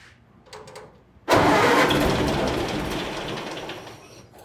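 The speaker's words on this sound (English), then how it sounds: "We're gonna do our first run startup and see if she goes off the fuel tank." A 1930 Ford Model A sedan engine cranks briefly, then catches and roars to life loudly up close, settling into a rough, running rumble that gradually eases, with no talking.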